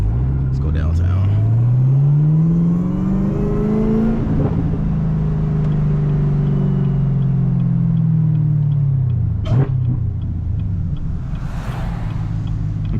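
A supercharged Chevrolet Camaro ZL1 with its hood missing revs and pulls hard on a drive through a campus, engine pitch sweeping up and down with a loud supercharger whine, close and sustained, with a sharp pop around the middle.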